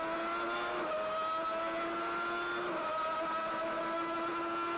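Formula 1 cars of the 1991 season race past, a sustained high-pitched engine whine with strong steady harmonics that dips and shifts pitch as cars flash by, loud and continuous throughout.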